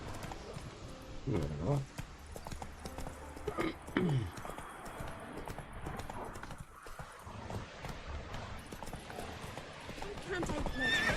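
Roach, the horse in The Witcher, clip-clops along and lets out neighs and whinnies amid game ambience, with someone talking over it at times.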